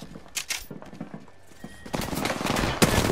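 Gunfire in the video game Apex Legends comes as scattered shots followed by a dense, loud rapid burst toward the end, close and with no talk over it.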